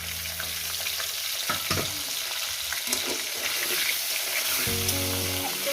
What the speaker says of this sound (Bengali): সবজিটাকে মিনিমাম 5-7 মিনিট ধরে আমি ভালো করে ভেজে নেব